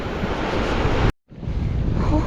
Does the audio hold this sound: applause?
no